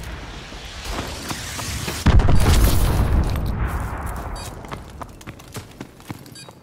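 Missile strikes explode in Call of Duty: Advanced Warfare, a heavy booming blast at about two seconds that rolls off into rumbling debris, with scattered sharp cracks and impacts trailing after it.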